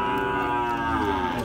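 A large dairy cow at a livestock market gives one long, loud, droning moo close by, sustained and harmonically rich from start to finish, with no speech over it.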